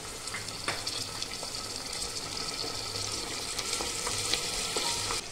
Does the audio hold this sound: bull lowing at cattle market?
no